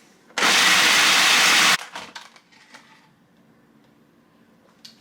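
A blender blitzing 1.5 quarts of garlic roars loudly at full speed for just over a second, then cuts off abruptly, leaving rattling and clinking as the blades wind down.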